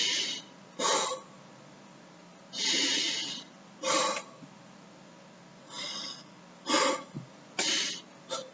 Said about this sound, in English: Then inhale and hold. And catch your breath again.